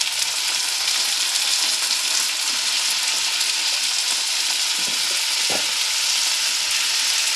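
Ghevda (broad bean) vegetable frying in a pan of oil, a loud continuous close sizzle with occasional stirring scrapes and clinks, and no talk.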